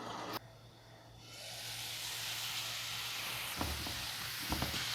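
Potatoes sautéing in oil in a covered pan for hariyali aloo matar, a steady broad sizzle with a low hum beneath and a couple of soft knocks near the end.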